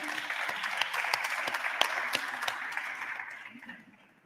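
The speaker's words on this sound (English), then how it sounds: "I think the tale of those 2 days of Vlad deserve an applause" Audience applause at a congress, a steady wash of clapping from a crowd that holds for about three seconds and then fades away.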